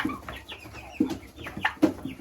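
Turkeys on a farm being fed greens from a bucket give a run of short, clucking calls at close range, several sharp bursts spread unevenly over a couple of seconds with no talk.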